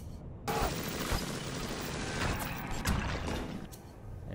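Gunshots in Bioshock, a continuous crackling burst of fire with scattered sharper cracks, moderately loud and steady over about four seconds with no speech.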